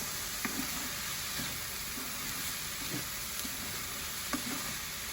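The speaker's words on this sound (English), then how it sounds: "And then you saute this." Potato filling for rellenos de papa sautés in a pan with a constant soft sizzle and hiss. Faint scattered clicks from stirring sit on top.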